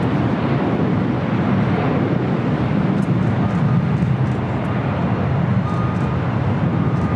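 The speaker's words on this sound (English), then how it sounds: "the Dreamliner now rolling down at 25 right" A Boeing Dreamliner jet rolls down runway 25 right at LAX, giving a steady, broad engine roar that holds at an even loudness throughout, with no voices.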